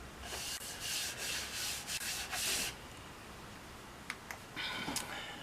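Sandpaper rubs over a round wooden window frame in bursts of brisk back-and-forth strokes, close and fairly quiet, with a pause and a few light taps before the sanding resumes.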